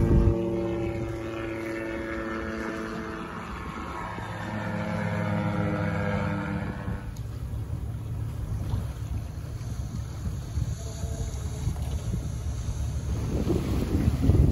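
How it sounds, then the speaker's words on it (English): A low-flying propeller seaplane drones past a sailboat, its engine tone rising then fading, over steady wind noise and water rush. "we heard an unusual noise and looked to starboard to see a seaplane flying by"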